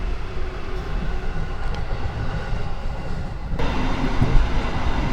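A KRL commuter train overtakes the long-distance Progo economy train out of Pasar Senen, heard as a continuous close rumble of running rail noise that swells louder and brighter in the final seconds.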